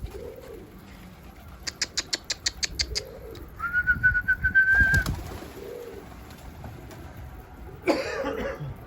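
Pigeons coo in soft repeated low calls near the recorder, with bursts of rapid bird chirps, a whistling tone and a brief rustle between them.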